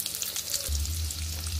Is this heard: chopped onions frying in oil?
yes